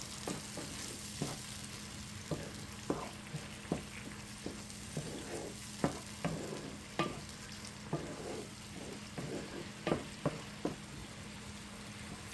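Chopped tomato frying in a pan for tomato fried rice, a soft steady sizzle under repeated light scrapes and taps of a spoon stirring, quiet and close, with no talking.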